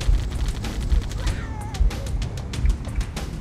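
Rapid bursts of gunfire and explosive booms in the video game Halo: Combat Evolved, dense repeated shots with a rising whine in the middle of the battle.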